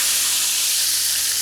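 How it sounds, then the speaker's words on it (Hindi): Tomatoes fry in ghee in a pan for mutton karahi, a loud and steady close-up sizzle with a dense hiss that does not let up. "टमाटरों को हम घी में पहले भूनेंगे"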